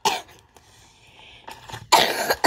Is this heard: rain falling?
no